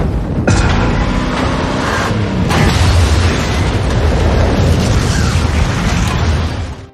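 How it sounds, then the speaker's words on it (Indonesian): A shipping container blows up in an action film, a loud, roaring blast that begins with a sharp burst and then rumbles steadily for several seconds before cutting off. "sebentar lagi kontainer tersebut akan meledak"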